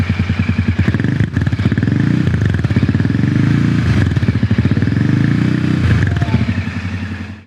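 A Royal Enfield Bear 650 motorcycle engine rumbles loudly at close range, revving in repeated surges with a throbbing, uneven exhaust note throughout.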